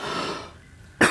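A single sharp cough from straining the throat while speaking, loud and close, arriving abruptly after a fading stretch of voice.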